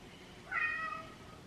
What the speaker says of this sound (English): That's my new cat.